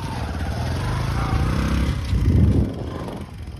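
A Bajaj 125cc motorcycle riding off-road, its single-cylinder engine putting along steadily up close, then rising briefly in a louder rev with some rattling before easing off.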